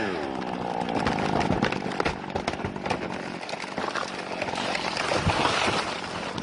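A chainsaw runs loudly and without pause, its buzzing engine holding a steady drone with slight rises and falls in revs for about six seconds.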